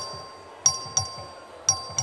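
The voting bell in the Texas House chamber rings in four sharp strikes over a steady electronic tone, with a dull background rumble.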